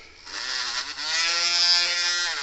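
Rust is cleaned off a washer from a Cyclops Brute electric fence charger, a close, steady buzzing power-tool whine that briefly dips, then rises and holds, with no talk.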